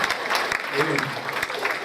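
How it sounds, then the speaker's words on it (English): A congregation claps hands during a church service, a dense steady patter of applause running through the whole stretch with a voice speaking over it. "Let's clap our hands"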